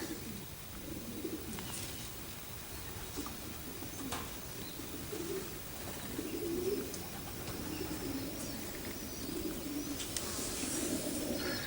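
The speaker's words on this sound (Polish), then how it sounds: "No, są dwa gołębie." Soft, low cooing of two racing pigeons repeating over steady outdoor background noise, with occasional faint chirps.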